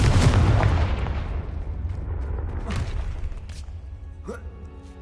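The Confringo spell detonates in the Hogwarts Legacy video game with a loud, booming blast at the start that rumbles and fades away, followed by a few fainter thuds and small effects.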